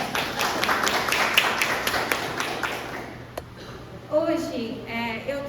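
A congregation gives a choir a round of applause after its performance at a lecture gathering, a few seconds of scattered clapping that fades out before a voice begins speaking.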